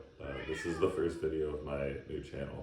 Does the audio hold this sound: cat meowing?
yes